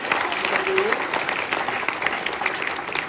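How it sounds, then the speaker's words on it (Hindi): Children applaud at a school Earth Day event in a dense, even patter of clapping, with a voice briefly audible over the clapping near the start. "बच्चों तालियां बजती रहे भाई"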